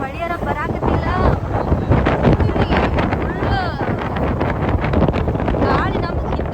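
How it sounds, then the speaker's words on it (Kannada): Strong wind buffets the microphone while riding a two-wheeler, a steady loud rush and rumble throughout, with voices talking over it. "ಗಾಳರ ಸಿಕ್ಕಾಪಟ್ಟೆ ಬಿಟ್ಟೈತಿ"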